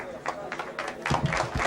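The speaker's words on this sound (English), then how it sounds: "More applause" Scattered applause rises from traders on a busy futures trading floor during a 1992 royal visit, uneven claps that thicken toward the end amid crowd murmur and distant voices.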